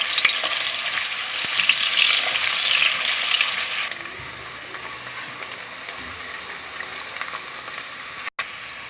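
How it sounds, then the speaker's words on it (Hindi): Chopped onion hits hot oil in a pan and fries with a loud, bright hiss for several seconds, then the sizzle drops to a quieter steady crackle with occasional stirring. "सबसे पहले जी ऑयल में जा रही है प्याज, इसको हम ब्राउन कर लेंगे प्याज को।"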